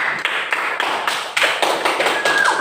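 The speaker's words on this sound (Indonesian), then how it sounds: "Oke, tepuk tangan buat kita semua." A classroom of young students clapping together in a lesson, with loud, uneven claps layered close and continuous for a few seconds.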